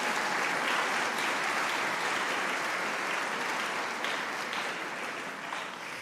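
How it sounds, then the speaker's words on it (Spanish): A church congregation applauding children, sustained loud clapping from a large crowd that carries on evenly and fades slightly toward the end. "un aplauso para estos niños"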